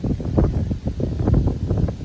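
Low, buffeting rumble of wind hitting the microphone of a FreeTiger FT903, gusting steadily throughout with uneven surges.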